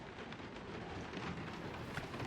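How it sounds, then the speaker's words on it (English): Rain in the video game Marvel's Guardians of the Galaxy, a steady dense hiss of falling water with low rumbling underneath, fairly quiet and continuous with no talking. "Of course, it had to be raining."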